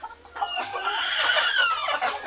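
Frizzle and cochin bantam chickens, some scuffling in a corner, cluck and squawk in a dense, continuous, close-up chorus lasting a couple of seconds.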